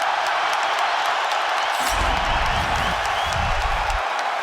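A fight crowd roars and cheers steadily throughout, a loud, dense wall of noise, with a voice briefly calling over it midway.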